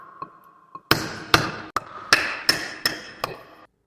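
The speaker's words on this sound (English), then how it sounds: "there's nothing better than a good old piece of wood and a hammer" A hammer drives a piece of wood against the center spinners of an Austin Healey's wheels, giving about seven sharp, loud knocks spaced roughly half a second apart, preceded by a couple of faint taps.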